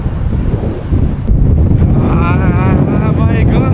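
Strong wind buffeting a cyclist riding through remote China, a heavy rumbling roar across the microphone that surges midway, with a voice speaking briefly underneath.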